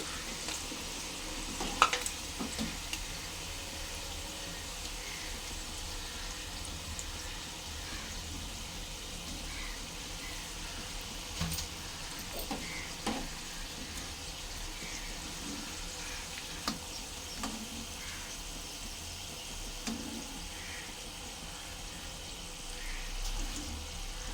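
Jackfruit pieces for panasa thonalu stir-fry in a pan, a steady sizzling hiss running throughout with soft scraping stirs and occasional light clinks of a utensil, close and fairly quiet.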